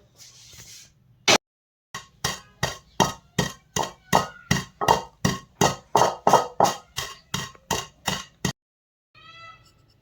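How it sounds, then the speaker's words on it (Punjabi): Coarse pounding of roasted spices for lemon pickle in a mortar with a pestle: about twenty sharp, evenly spaced thuds close by, after a single opening strike and a pause, then a faint rustle. "ਇਹਨੂੰ ਆਪਾਂ ਕੁੰਡੇ ਵਿੱਚ ਪਾ ਲੈਣਾ ਕੁੰਡੇ ਘੋਟਣ ਨਾਲ ਇਹਨਾਂ ਨੂੰ ਥੋੜਾ ਜਿਹਾ ਕੁੱਟ ਲੈਣਾ ਮੋਟਾ ਮੋਟਾ ਜਿਹਾ"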